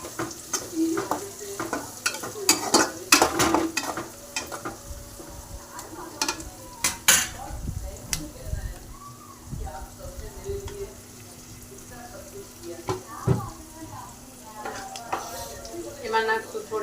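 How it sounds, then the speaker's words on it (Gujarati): Green peas sauté in an oily pan for vegetable pulao, a steady sizzle broken by frequent scraping and clattering strokes of a spoon against the metal, close and fairly loud. "વટાણા નાખીને આપણે થોડીક વાર એને સાતળશું"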